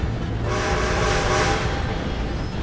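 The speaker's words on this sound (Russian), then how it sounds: "Поезд! Давайте, как в фильме! Обогнать поезд!" Train in a western-themed video game rushing past with a loud, steady rumble and rattle, a brief horn-like tone riding over the noise across the whole stretch.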